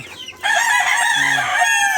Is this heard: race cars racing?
no